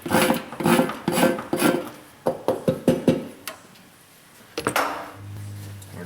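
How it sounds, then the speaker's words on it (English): Scraping loose rubber from the patch area inside a tire, heard as a run of close, rough rasping strokes in a steady rhythm, several quick scrapes, then a pause and a few final rubs. "we're going to kind of scrape some of that loose rubber out of the way"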